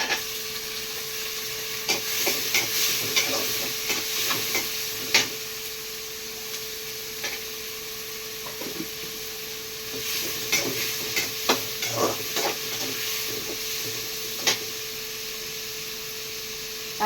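Tomatoes sizzle steadily in a hot pan for a South Indian curry, with repeated scraping and stirring strokes of a spoon at close range, and no talk.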